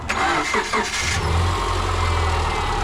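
A Subaru Legacy with automatic transmission starting up: a short rattling crank over the first second, then the engine catches and settles into a steady low idle hum, close by, with no talking.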